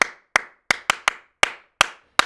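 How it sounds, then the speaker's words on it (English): Nine sharp, dry hand claps picked up by a close microphone land at uneven intervals, each a crisp isolated snap with a short tail and near silence between. "A close mic for that intimate dry clap"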